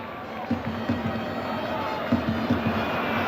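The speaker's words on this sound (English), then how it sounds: "the crowd are booing Marcus Babbel, stopping Maradona getting through" A stadium crowd at a Bayern München friendly football match booing a player, a steady low roar with swelling vocal bursts, fairly distant, over ambient crowd noise.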